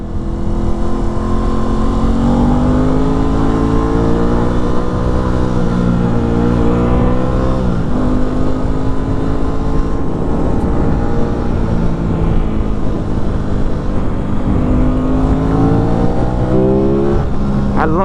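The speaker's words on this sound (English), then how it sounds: "I love the sound of this bike." An Aprilia RS660 motorcycle engine on the road, with a steady, loud, close drone. The pitch swells and falls as the rider opens and closes the throttle, dipping briefly near the middle and rising again toward the end.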